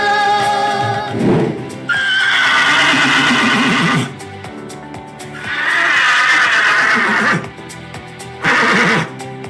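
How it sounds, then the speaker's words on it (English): A horse neighs loudly and repeatedly, with long shrill whinnies separated by short pauses, close and clear. "The horse neighs."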